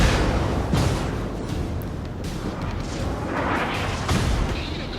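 Secondary guns on a Kurfürst battleship boom in World of Warships, several dull blasts and rumbling impacts spread over a few seconds amid continuous game battle noise.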